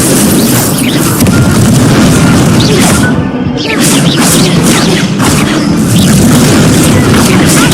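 The Incendio fire spell blasting in Hogwarts Legacy, a loud dense booming roar of fiery bursts and crashes that briefly dips, then surges again as repeated blasts.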